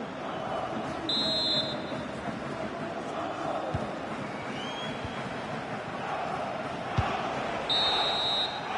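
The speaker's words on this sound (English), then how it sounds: "And there it is, the final whistle." A referee's whistle sounds during a football match in FC26, with two separate shrill whistle blasts rising clearly above steady stadium crowd noise.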